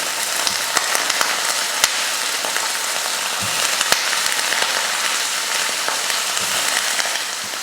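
Onion and eggplant sizzle steadily in a hot pan while being sautéed, a loud, continuous crackling hiss with occasional sharper pops.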